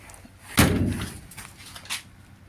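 Car door on a 1939 Hillman Minx slammed shut once, a single loud close thud with a short rattle of the panel, followed by a faint knock.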